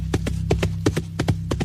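Horse hooves clip-clopping along a sandy island shoreline, a quick, steady run of sharp paired strikes close by, with no talking.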